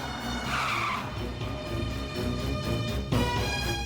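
A jeep pulls away, its engine revving with a squealing, skidding rush of tires over a noisy background, building to a sharper burst near the end.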